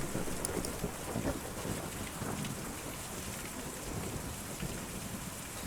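Steady rain in the video game Kentucky Route Zero, a dense, quiet hiss of falling water with low rumbling underneath, continuous and even with no voices.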